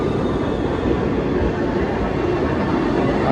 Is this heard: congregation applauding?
no